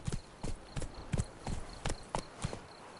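The horse Roach trots in The Witcher 3, giving about ten crisp, evenly spaced hoof clip-clops at close range. There is no speech.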